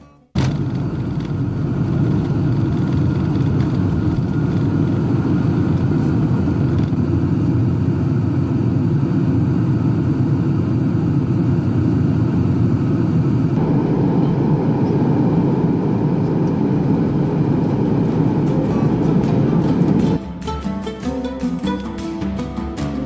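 Steady, loud engine roar inside an airplane on a flight out of Tehran, a continuous broadband hum and rush that holds level for over twenty seconds before shifting slightly near the end, with no voices.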